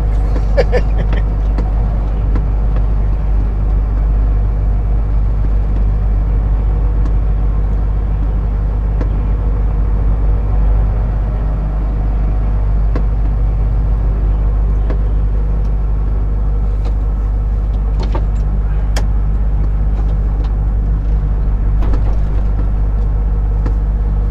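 A car engine rumbles steadily at idle while the vehicle is being parked, a loud, constant low drone filling the whole stretch with faint clicks and knocks above it and no talking.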